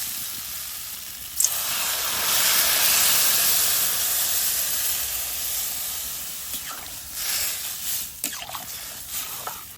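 Water poured into a hot pan of curry for a fish and potato dish, giving a sustained loud steaming hiss that peaks early, then fades into softer bubbling with faint clatter.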